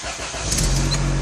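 A 1993 Toyota Celica, started without a key after the ignition cylinder is removed, cranks and catches, with the engine swelling into a steady close idle.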